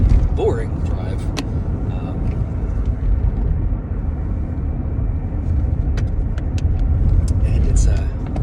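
A car on a long highway drive gives a steady, loud low engine and road rumble throughout, with faint higher road hiss and occasional brief clicks.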